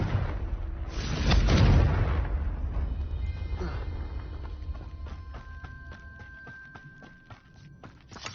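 A Confringo fire spell goes off in a video game as one sharp, booming burst. It is followed by a long stretch of steady, rhythmic clopping footfalls.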